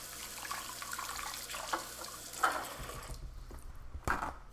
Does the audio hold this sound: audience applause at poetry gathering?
no